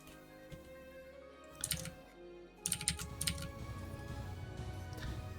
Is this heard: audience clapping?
no